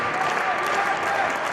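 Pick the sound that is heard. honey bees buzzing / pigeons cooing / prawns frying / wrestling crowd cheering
wrestling crowd cheering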